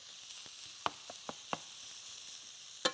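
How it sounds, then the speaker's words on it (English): Very lean ground pork browning in a Tefal non-stick skillet gives a faint, even sizzle with a few quiet clicks and taps of a utensil against the pan, and no voices. "This just happens to be a little bit of ground pork. I'm going to brown it up."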